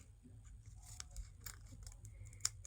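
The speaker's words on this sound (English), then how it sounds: "I'll just go in and cut." Scissors snip around a cling stamp, cutting out a butterfly design: soft, quiet, irregular blade clicks with paper-like rustle, close by, ending in one sharper snip.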